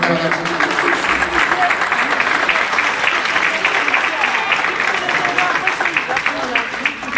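Sustained applause in a graduation ceremony hall, a dense, steady wash of many hands clapping from an audience that continues evenly throughout, with some voices audible in the mix.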